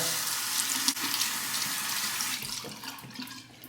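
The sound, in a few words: hot tap water running over a shaving brush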